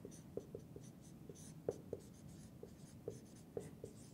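A pen or marker writes the word median in a statistics lesson, giving a series of soft, close scratchy strokes and taps spaced irregularly across the stretch.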